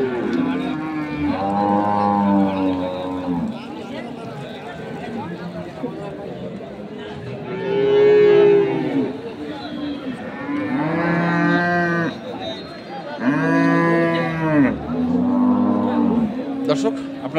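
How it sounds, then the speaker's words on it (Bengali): Dairy cows at the Ambari cattle market in Dinajpur give several long, loud moos in separate bursts, with crowd noise and talk mixed in between calls. "এখানেও আরেকটি গরু দেখছিলাম।"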